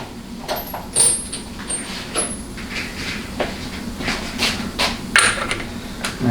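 Wrench work loosening the bolt-on yoke bolt of a TH400 transmission during teardown: sharp metallic clanks and taps at irregular intervals over a low steady hum, fairly close and moderately loud.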